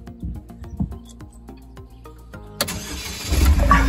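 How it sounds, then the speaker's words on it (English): A Pontiac Solstice GXP SCCA T2 race car sits quietly with faint clicks, then its engine cranks and catches about two-thirds through, settling into a loud, close, rumbling idle. "So we have a started car."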